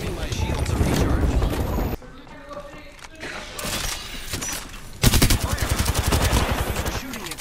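Rapid gunfire from Apex Legends, with dense automatic bursts and sharp repeated shots, loud and close, pausing briefly before a fresh volley. Game voice lines and effects mix in.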